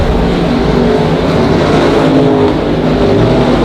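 Race cars lap the oval at Monarch Motor Speedway, a dense, loud and continuous engine roar from several cars at once with no gaps.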